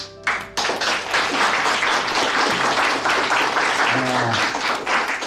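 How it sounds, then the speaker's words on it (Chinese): Applause rings out for naval carrier pilots in a formal setting, a sustained dense round of clapping that fills the space from start to finish, with a voice briefly heard near the start. "为你们鼓掌。"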